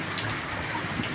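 Heavy rain pours steadily in an even, close hiss with no clear thunder, and no one talks.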